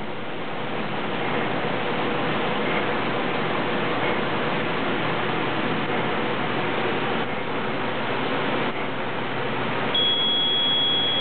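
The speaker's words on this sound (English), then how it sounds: "it's got a buzzer, so if he really does get too close, it will beep" A proximity buzzer on a parking bumper in a garage, warning as a big truck gets too close: a continuous band-limited electronic tone under steady noise, with a thin high whine joining near the end.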